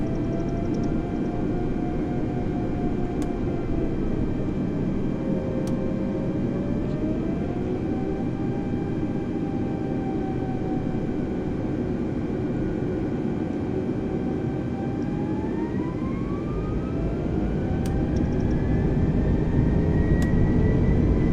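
An airliner takes off in Microsoft Flight Simulator, with steady, loud jet engine roar and rumble under slowly rising turbine whines that climb as thrust builds, continuous throughout with no talk.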